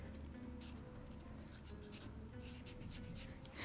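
A marker writes on muslin fabric with a faint, soft scratching that continues steadily and close under a low background hum, ending with a louder rustle.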